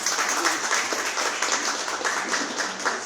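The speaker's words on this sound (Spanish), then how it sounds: "Un aplauso merecido por esta lucha." An audience at an indigenous authorities' forum in Guatemala applauds, a steady wash of clapping that fills the whole stretch with a faint voice underneath.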